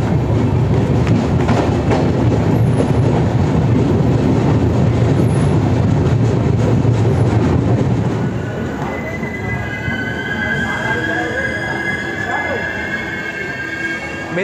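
A passenger train on a journey from Asansol toward Puri rumbles and clatters loudly from close by, wheels squealing against the rails, then the roar drops and a high metallic squeal rings out over the quieter rolling.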